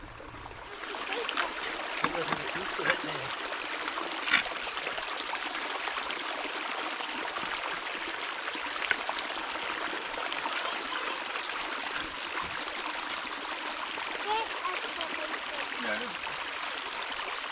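Water rushes and gurgles in a continuous, steady flow close by, a broad hiss with faint bubbling and no talking over it.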